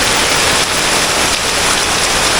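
Heavy hurricane rain pours down in Kingston, Jamaica, during Hurricane Beryl, a loud, dense and unbroken hiss of water hitting surfaces close by, with no voices.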